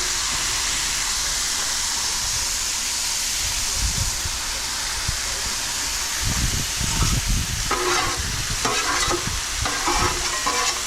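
Pork chops simmer and sizzle in a pan at a campsite, a steady close frying hiss throughout with occasional stirring scrapes and clatter toward the end.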